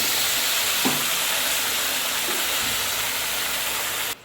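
Ginger, chili and tomato paste frying in hot oil for aloo dum, a loud, steady, close sizzle with a couple of faint utensil touches, cutting off abruptly at the end.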